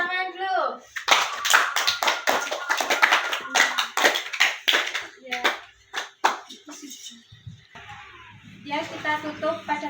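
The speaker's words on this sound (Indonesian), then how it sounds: "Beri tepuk tangan dulu." A classroom of children claps in a lively burst of dense, rapid handclaps lasting several seconds, with a few scattered claps after. A teacher speaks before and after the applause.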